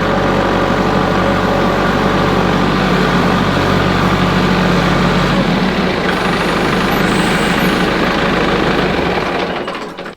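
A heavy diesel engine runs steadily close by, a loud low rumbling idle that shifts slightly in tone before cutting off at the very end.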